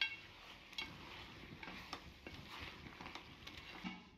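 Chopped tomatoes stirred into amaranth leaves in a pan for a mutton curry: soft, steady scraping and clinking of the spoon against the pan, with a faint sizzle beneath, fairly quiet and with no talking.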